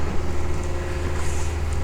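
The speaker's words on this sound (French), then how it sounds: "Là, ce que vous entendez, c'est le bruit du dessal." A watermaker desalinator runs aboard a sailboat anchored off La Graciosa, giving a steady, continuous mechanical hum with a low drone and faint hiss, unbroken and moderately loud throughout.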